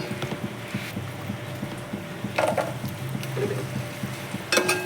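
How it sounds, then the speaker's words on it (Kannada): Cashew nuts frying in a pan, a soft low sizzle with steady stirring scrapes and occasional clinks of a spoon against the pan, fairly quiet and continuous. "ಸೊ ಗೋಡಂಬಿ ಕೂಡ ಹಾಕ್ಕೊತಾ ಇದ್ದೀನಿ. ಸೊ ಎರಡು ಸೇರಿ ಚೆನ್ನಾಗಿ ಫ್ರೈ ಮಾಡ್ಕೊಳ್ಳೋಣ"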